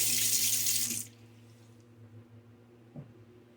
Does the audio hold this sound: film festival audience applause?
no